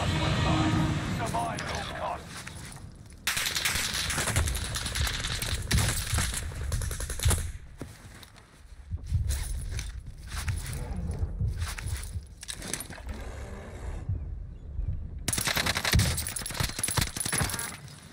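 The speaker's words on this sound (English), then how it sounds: "Bullets everywhere!" Video game gunfire crackles in dense, irregular bursts and rapid volleys, loud and close, broken by short pauses, with voices talking under the shooting.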